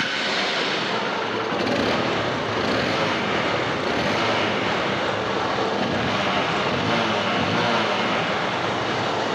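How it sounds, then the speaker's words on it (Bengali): A Hero Honda Hunk motorcycle engine revs hard and continuously at full throttle, a loud, dense, steady roar that stays close throughout without pauses or talking. "এখন আমরা বাইকের সাউন্ডটা একটু দেখব।"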